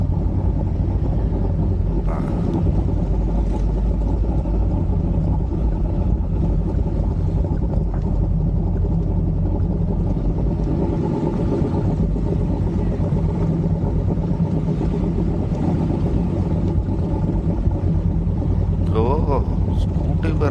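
A new Royal Enfield Himalayan motorcycle climbs a hill, its engine a steady, loud low rumble mixed with heavy wind buffeting on the microphone throughout.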